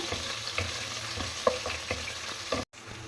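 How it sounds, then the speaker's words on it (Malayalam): Finely chopped onion sautés in a pan for quick noodles, giving a steady close sizzle with light stirring scrapes and a brief dropout near the end, no voices. "ഓണിയൻ ഉണ്ടല്ലോ അത് ചെറുതായിട്ട് ചോപ്പ് ചെയ്താണ് അത് നമുക്ക് ഇതിലോട്ട് ആഡ് ചെയ്യാം ഇതൊന്ന് ജസ്റ്റ് ഒന്ന് സോട്ടാവട്ടെ"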